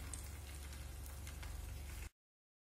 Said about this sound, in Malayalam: ഇനി അതിലേക്ക് മീൻ കഷ്ണങ്ങൾ ചേർത്ത് വറുത്തെടുക്കുക.